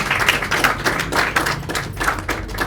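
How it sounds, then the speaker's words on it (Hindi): A crowd claps to welcome guests at a Diwali celebration, brisk overlapping applause that swells and fades in uneven waves, fairly close and loud. "तालियों के साथ उनका स्वागत करते हैं"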